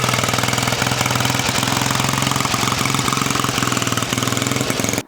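An old engine, one from a museum-kept machine, running steadily after starting, a loud close rapid chugging knock with an even pulse that cuts off abruptly at the end.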